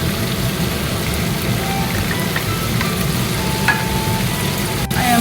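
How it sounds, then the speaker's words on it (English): Vegetables sauté in a pan for a stir fry, with a dense, steady sizzle like rain, close and fairly loud throughout, and a few faint clinks. "I'm going to add veggies. It's kind of like a little stir fry."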